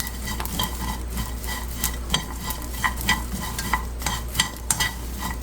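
Anchovies and nuts stirred in a frying pan for a crispy side dish, with loud repeated scraping and clinking strokes of a utensil against the pan over a continuous low sizzle.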